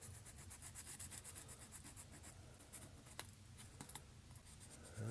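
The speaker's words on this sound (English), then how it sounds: "I'm gonna start by sanding this out a little bit with 400" Quiet, rhythmic rubbing of 400-grit sandpaper in quick back-and-forth strokes, soft and close, with a couple of light taps and no talking.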